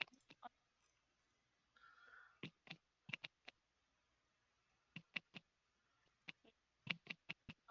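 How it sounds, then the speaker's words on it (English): Scattered bursts of sharp plastic key clicks, quick clusters separated by pauses, close and fairly quiet with no talking. "It's me typing."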